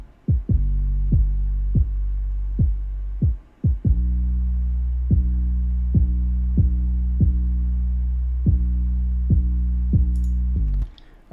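Programmed beat of a deep, booming kick drum pattern with a heavy sustained bass line underneath, thumping in a steady, loud rhythm with brief dropouts, with no other sounds.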